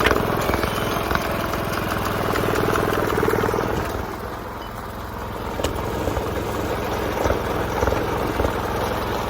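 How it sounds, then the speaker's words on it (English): Wheel Horse garden tractor engine running steadily with a cultivator attached while prepping a food plot, a loud continuous droning hum that dips slightly midway and then carries on evenly, with no talking. "We're going to see what we can do with a cultivator and rake this up."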